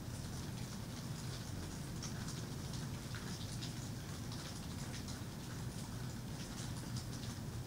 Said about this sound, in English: First rain in Vegas in 49 years.